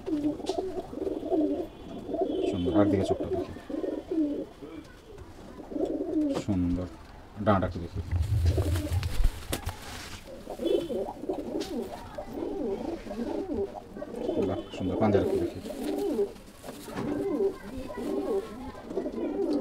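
Pigeons coo in a pigeon loft, repeated rolling coos near and loud through most of the stretch, with someone speaking intermittently among them.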